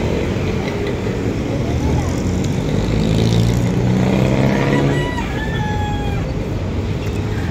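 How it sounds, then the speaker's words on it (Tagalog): Steady roar of road traffic during a hot afternoon commute home from work, cars passing continuously at close range with engine hum and tire noise, and a rising whine of a vehicle partway through; a rooster seems to crow faintly in the background. "Grabe pa ang traffic."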